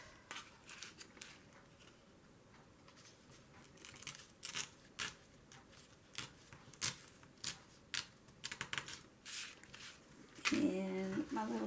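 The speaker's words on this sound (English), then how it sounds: "I'm going to rip this off." Paper or tape torn off an artist trading card during crafting: a run of crisp, close tearing and crackling bursts in an irregular rhythm, with a brief voice near the end.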